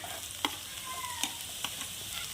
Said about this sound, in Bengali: ক্যাপসিকামও 1 মিনিট ভেজে নেব